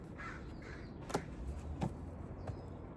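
A crow caws three times in separate calls spaced about half a second apart, moderately near and fairly clear over a steady outdoor background hiss.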